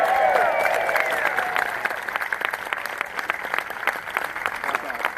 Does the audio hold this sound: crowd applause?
yes